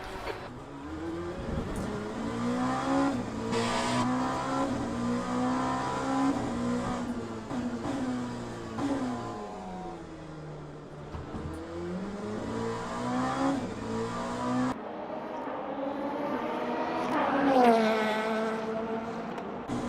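Race car engines in Le Mans Ultimate scream through upshifts and downshifts, pitch sweeping up and dropping repeatedly, with one car passing close and loud near the end; no talking.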